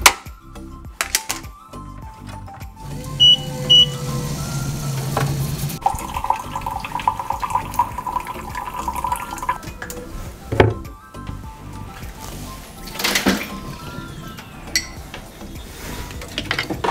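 Water from an RO/DI filter runs into a sink with a steady splashing flow, broken by clunks and shifting hisses, close and moderately loud, with no talking.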